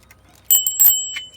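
A small bell on a Jopo kids bike rings in two or three short, bright, close dings with a lingering metallic tone, followed by one fainter ding a moment later.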